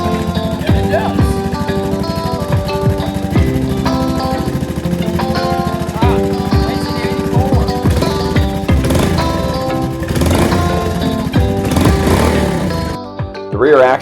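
An older Honda ATC 110 three-wheeler idles and revs steadily after a carburetor cleaning, a loud buzzing single-cylinder drone with a few throttle blips, cutting out briefly near the end.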